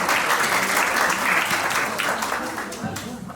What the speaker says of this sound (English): Applaud her, please.